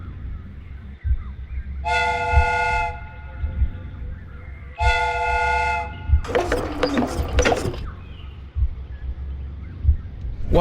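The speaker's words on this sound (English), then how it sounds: "The steam whistle is ready to be used." Steam train whistle in the Sherlock Holmes Crimes and Punishments video game, sounding two loud sustained blasts, followed by a burst of hissing steam and clanking mechanism.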